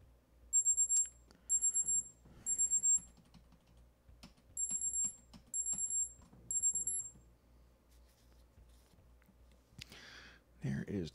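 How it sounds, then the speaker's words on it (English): A break timer alarm goes off during a live software development session: two rounds of three short, high electronic beeps, with soft keyboard typing and an occasional quiet voice underneath. "There is the break timer."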